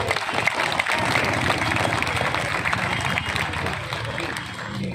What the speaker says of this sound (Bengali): একবার জোরে হাততালি সবাই